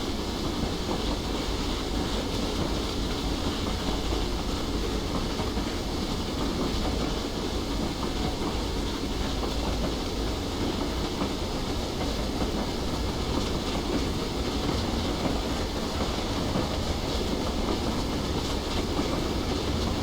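A J50 steam locomotive in Train Simulator rolls along a Weardale and Teesdale line with a steady, loud rumble and rhythmic wheel clatter that continues without a break.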